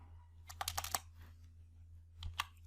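Computer keyboard typing up close, a quick cluster of four or five light key clicks followed after a pause by two more taps, soft and crisp over a quiet hum.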